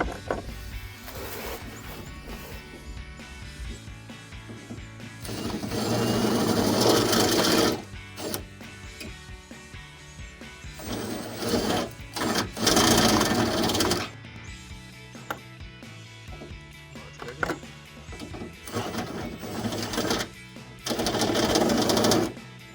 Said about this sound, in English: So we're going to drill it a little bit and keep checking until we know that socket will fit in there.